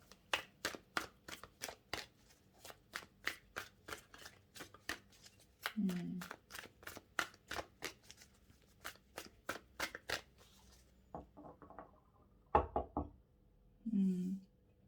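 A tarot deck is shuffled and cut in a rapid series of crisp card taps and riffles, close up and fairly quiet, with someone speaking briefly a few times between the card sounds.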